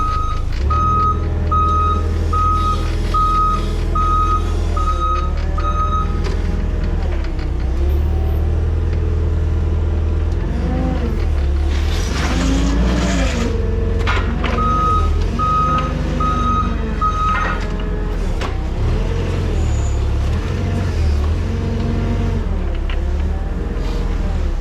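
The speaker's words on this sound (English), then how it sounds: "back that delivery truck inside here" Delivery truck backing up with steady, regularly spaced reversing beeps over a loud idling diesel engine, the beeping pausing midway while the engine revs before the beeps return.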